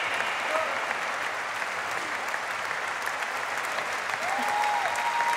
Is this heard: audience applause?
yes